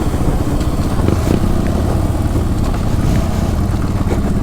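A Honda TRX400 and a Yamaha Raptor 700 ATV, both with tune, exhaust and intake mods, racing with loud continuous engine drone and rough exhaust rumble, buffeted by wind noise and no talk.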